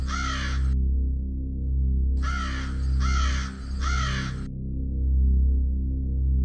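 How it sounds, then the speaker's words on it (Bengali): Crows cawing in alarm for an animated horror short, four harsh, nasal caws in a broken sequence, one alone and then three in a quick row, over a steady low droning background. "দূরে শোনা যাচ্ছে পাখিদের ডাকে আতঙ্ক,"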